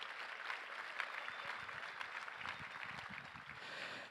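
A room of guests at a gun responsibility fundraising luncheon gives a sustained round of applause, heard faint and distant as a steady even patter with no talk on top.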